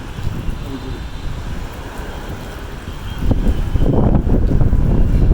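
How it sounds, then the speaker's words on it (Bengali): Heavy rain roars with gusty wind buffeting the microphone, growing louder and denser partway through. "এই যে বৃষ্টি, বাতাস পুরো ভরে যাইতেছে, বৃষ্টি বাতাস আরো বৃষ্টি আসতেছে"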